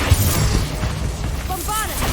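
Confringo spell blast in Hogwarts Legacy, a close, punchy boom at the start followed by rumbling debris, with brief tonal creature-like cries toward the end and a voice in the mix.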